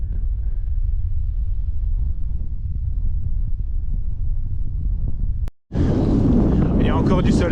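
Strong wind buffets the microphone during a mountain bike ride, a steady loud rumbling roar that cuts out briefly and then returns harsher and louder.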